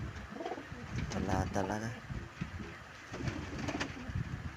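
Pigeons in a Filipino loft coo in low repeated phrases, close and moderately loud, mixed with a voice speaking over them.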